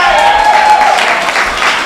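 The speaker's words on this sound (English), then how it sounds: "they deserve a round of applause" An audience at a public hearing applauds loudly and close by, with a steady wash of clapping and a faint tone running through the first half.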